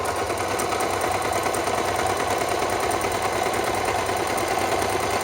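A sewing machine runs a straight stitch with a continuous, even, rapid mechanical whirr and buzz, close and steady throughout, with no talking.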